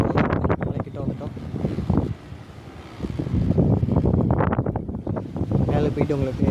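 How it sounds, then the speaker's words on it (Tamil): Strong wind blows across the hilltop at the Murugan temple on Moolapalayam hill in Karur, buffeting the microphone with a heavy, rumbling roar under someone talking in Tamil almost throughout. "காற்று தான் மக்களே செம்மையாக அடிக்குது"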